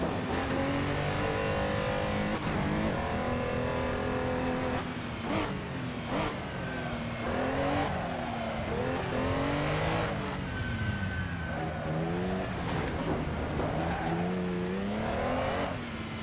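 A race car engine in a sim racing game revs loudly and continuously, pitch climbing and dropping through gear changes, with occasional tire squeal and no talking.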